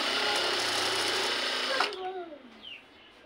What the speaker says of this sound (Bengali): এই অংশটাকে এইভাবে মুড়িয়ে আরেকটা সেলাই করে দেবেন।